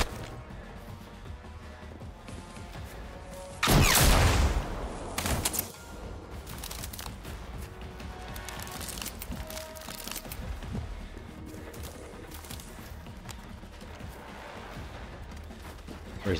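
Gunfire erupts in Generation Zero, a loud burst of rapid shots in a dense cluster lasting about two seconds, followed by scattered fainter cracks over a busy game soundscape.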